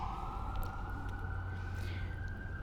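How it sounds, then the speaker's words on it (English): An emergency siren sounds as a steady, sustained tone that rises slightly in pitch, over a constant low traffic rumble. "We'll take a siren pause."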